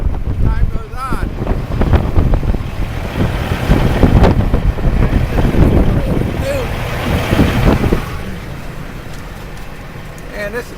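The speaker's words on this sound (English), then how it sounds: "it's definitely leading up to the 45 mile an hour wind. I mean, it's just blowing." Strong blizzard wind in central Illinois, with gusts near 45 mph, roars and buffets loudly against the microphone, easing somewhat toward the end.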